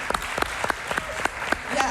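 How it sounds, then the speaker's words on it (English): A small audience claps for floor panelists at a church discussion event: a brief patch of scattered, distinct handclaps at a moderate level with a voice faintly underneath. "Can we just give them a round of applause,"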